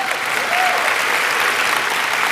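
Loud, sustained applause fills the hall as a church congregation claps during a sermon. The even wash of many hands clapping never lets up, and no one speaks over it.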